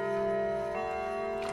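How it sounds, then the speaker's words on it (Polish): A clock in the Minecraft video game ticks and rings steadily in a Halloween-themed scary location, with sustained ringing tones over a light tick, loud and alone. "Zegar zaczął dzwonić, tu jest zegar."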